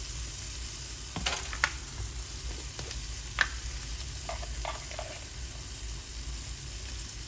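Parsley dropped into garlic herb rice frying in a pan brings a steady, moderate sizzle with a few sharp pops and light clinks, and nobody speaks.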